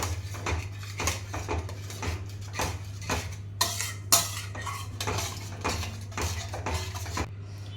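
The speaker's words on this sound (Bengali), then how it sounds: "একটু জল দিয়ে দেবো দিয়ে এরকমভাবে নাড়িয়ে নিতে হবে" A utensil stirs a yogurt fish curry (katla) in a pan over a low flame, making repeated clinking, scraping strokes in a steady rhythm against a low hum.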